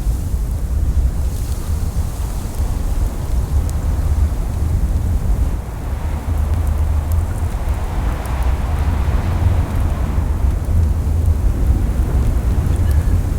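A raging storm in the survival game The Long Dark roars without pause, a loud, unbroken wash of wind and rumbling thunder-like noise with no speech.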